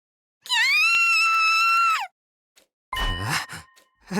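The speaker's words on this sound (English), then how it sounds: "A scream? Was that Nozomi?" A loud, sustained scream in the video game The Hundred Line, held for about a second and a half before cutting off, followed after a pause by a burst of cries and voices.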